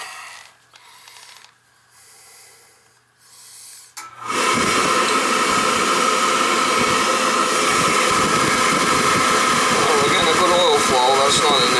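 Riello oil burner firing up after a quiet start, then a loud, steady roaring rush that holds at full level for the rest of the stretch, with no talk over it.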